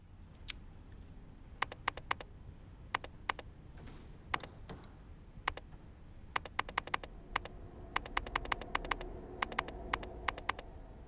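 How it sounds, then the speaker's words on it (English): Keys tapped on a computer keyboard in bursts of quick, crisp clicks separated by short pauses, fairly close and alone over a faint background hum. "should I just look at my actual keyboard when I type this down?"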